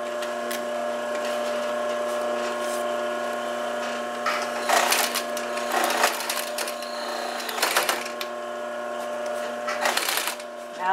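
A sewing machine stitches the sides of a straw clutch, its steady motor hum broken by several bursts of rapid rattling needle strokes.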